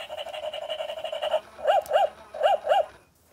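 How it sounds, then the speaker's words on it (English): A battery-powered toy dog, set off by its button, plays a run of synthetic yapping barks followed by four distinct electronic barks, loud and close, with no talking over it. "We just accidentally pressed the button on that adorable dog right there."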